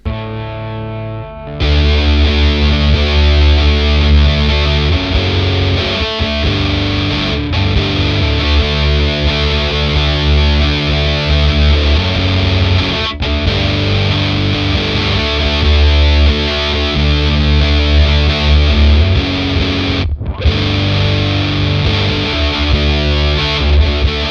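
A heavily distorted electric guitar played through a distortion pedal plays sustained chords at high volume, with a few brief breaks between them.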